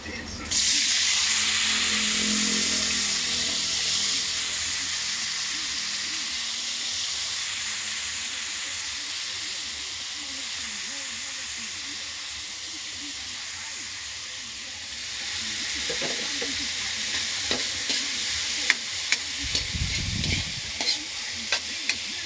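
Bitter gourd (ampalaya) sizzles loudly in a hot pan with corned beef and egg, a steady close frying hiss with stirring scrapes and clatter of the utensil toward the end.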